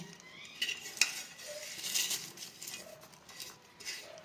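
Raw papaya chanachur with curry leaves is mixed by hand in a metal bowl, making soft, close rustling scrapes and a few sharper clinks in an irregular rhythm.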